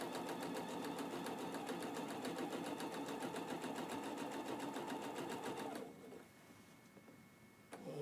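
A sewing machine stitches straight seams on a quilt in a steady, fast rhythmic whir. It runs continuously for about six seconds, then stops, leaving a quieter room.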